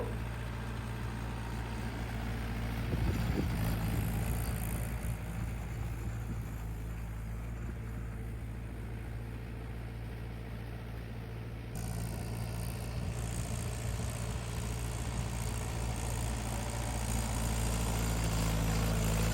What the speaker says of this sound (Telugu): ట్రాక్టర్ ఎవ్వరు అంత చిన్న దానికోసం దున్నడానికి రారు అని చెప్పి మొత్తం దున్నిస్తున్నాము